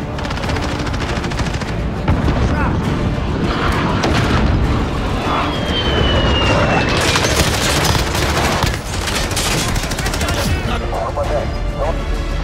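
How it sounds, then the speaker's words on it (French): A grenade blast and constant gunfire in Modern Warfare 2019, with dense machine-gun bursts, heavy booms and a loud, chaotic battle din that swells around the middle and late parts. "Grenade lancée."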